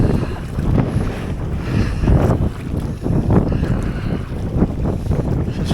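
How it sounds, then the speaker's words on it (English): Wind gusting across Gwynant Lake in North Wales while kayaking, buffeting the microphone in loud, uneven roaring bursts with some water and boat noise underneath, no talking. "The wind's sort of on my side."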